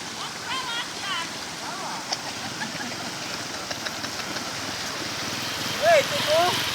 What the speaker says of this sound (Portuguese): Olha o rio já aqui, olha a água, olha que coisa linda.